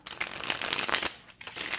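Tarot cards being shuffled by hand, a close papery riffle and crinkle in several quick bursts with a short pause near the end.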